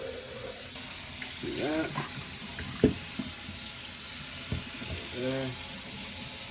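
Tap water runs steadily into a sink while something is rinsed out, a broad continuous wash with a few clunks, as people talk briefly over it.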